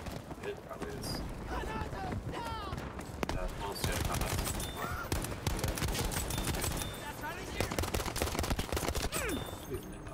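Rapid pistol gunshots in Battlefield V, loud cracking bursts packed together among dense combat noise and clattering effects, with talk over the top.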